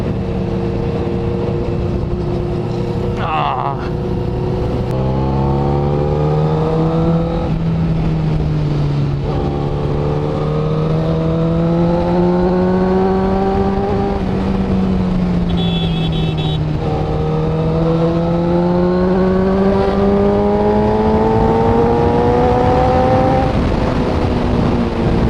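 A Honda CBR1000RR superbike rides through Mumbai traffic among other loud superbikes. Its engine drones close and loud, with the pitch rising and falling as the rider accelerates and eases off, and there is no talking.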